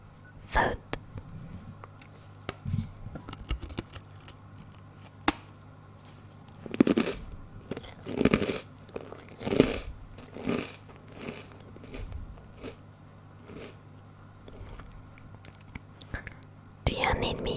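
Crunchy food being chewed close to the mic in an ASMR stream, with sparse crisp bites and crunches at irregular intervals over a quiet background, plus occasional soft whispering.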